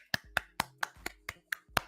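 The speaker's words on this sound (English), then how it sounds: "Clap it up." Eight evenly spaced hand claps at a quick steady rhythm, crisp and close, with a faint low hum between them.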